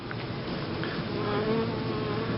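Many honey bees buzz around a hive in a continuous, close drone, individual insects whining past over the dense hum.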